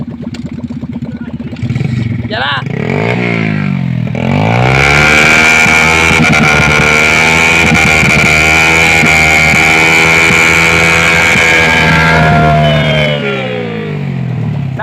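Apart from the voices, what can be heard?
Yamaha MT-09 motorcycle engine revving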